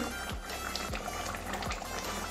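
A pot of Bengali katla fish curry with papaya and tomatoes simmering, giving low, soft bubbling pops at a steady rhythm over a constant gentle hiss, close by with no talking.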